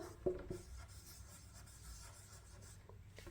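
Pen or pencil writing by hand on paper, a faint close scratching with a few light taps near the start and a steady soft rasp after.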